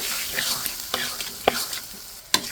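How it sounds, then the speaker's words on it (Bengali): Soaked chickpea dal frying in a pan, a steady hiss of sizzle broken by a few sharp scraping strokes as it is stirred and turned. "ডালটা দিয়ে এখন আমি কষিয়ে নিচ্ছি। বন্ধুরা, ডালটা একটু উল্টিয়ে নেড়ে দিচ্ছি।"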